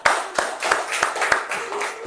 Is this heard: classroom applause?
yes